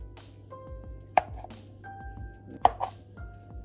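Hard-boiled eggs cut into halves with a knife, with two sharp knife thuds on a board set apart by quieter handling sounds, close and clear, with no talking.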